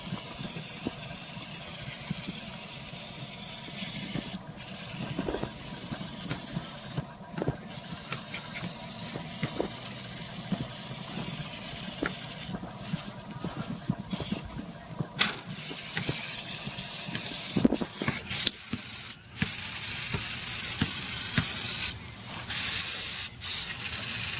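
Intermittent hissing bursts of an aerosol oven cleaner spray can used as engine degreaser over a steady mechanical hum, with a few sharper clicks and rattles throughout.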